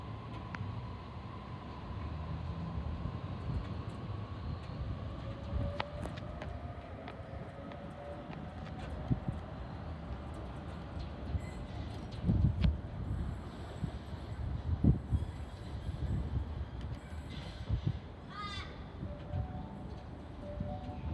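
A Sydney Waratah electric train passes Petersham Station with a steady low rumble and rolling wheel noise that swells and recedes over about twenty seconds, heard from nearby with some rattles and squeals and no speech.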